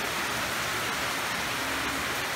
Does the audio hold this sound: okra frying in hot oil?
no